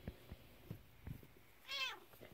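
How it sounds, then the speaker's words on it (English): A RagaMuffin cat lets out a single short meow near the end, preceded by faint soft thumps and rustling of bedsheets in a quiet room. "There's a kitty."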